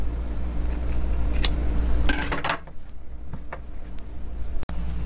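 Scissors snip the seam allowance on linen fabric, a few close crisp cuts and a clustered run of quick snips, then quieter handling noise.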